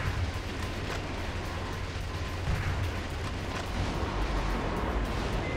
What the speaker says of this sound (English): I just destroyed myself because I was too close to the bomb